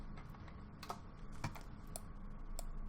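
Keystrokes on a computer keyboard tapped during a game-development tutorial, several soft clicks spread unevenly across a few seconds over a low steady room hum, close and fairly quiet.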